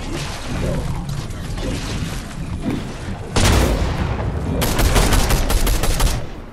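Gunfire in Fortnite, a dense fusillade of rapid shots and booms that runs throughout, loud and close, swelling into heavier bursts partway through.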